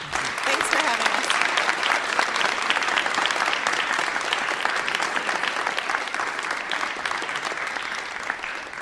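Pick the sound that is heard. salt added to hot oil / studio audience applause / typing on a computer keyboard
studio audience applause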